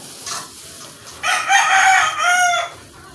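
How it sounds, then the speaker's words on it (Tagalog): Chickens cluck softly, then a loud rooster crows twice in long drawn-out calls, close by and clear over a quiet background. "Pakain tayo ng mga manok"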